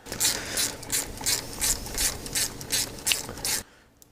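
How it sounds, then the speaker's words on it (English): A ratchet wrench clicks steadily as it backs a 12 mm battery cable nut off a car starter, a close, quick rhythmic series of ratcheting bursts that stops abruptly near the end. "It is actually a 12 millimeter."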